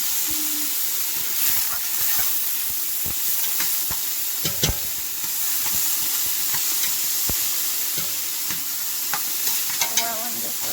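Chorizo and beef sizzle steadily in a pan for chili while a utensil stirs and scrapes, giving a constant hiss broken by occasional clicks and knocks, close up with no voices.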